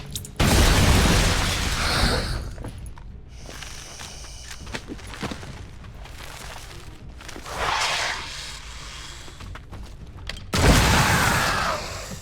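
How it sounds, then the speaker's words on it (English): A Turncoat grenade detonates in XCOM: Chimera Squad with a loud, broad blast, followed by crackling and thumping battle noise and a second heavy burst near the end. "We've also got a Turncoat Grenade in here. Throwing grenade."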